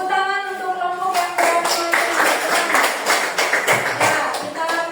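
A classroom of pupils claps for a presenting group, the sharp hand claps starting after a brief voice and running in a lively, close, uneven burst for several seconds.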